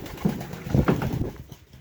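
Pigeons kept in a village coop, white Bengali pigeons and a young king pigeon, give a brief burst of low cooing close by.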